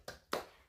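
Two sharp hand claps about a quarter second apart in a classroom focus-clap routine, close and crisp with a short ring after each.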